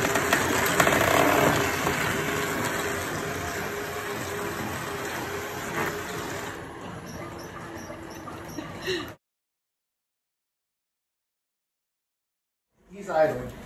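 A homemade life-size Robby the Robot costume idles with a continuous mechanical hum, rattle and whir that cuts off abruptly, followed by silence and a brief burst of sound, with a voice talking at points.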